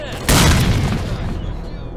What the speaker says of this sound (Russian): Получай гранату!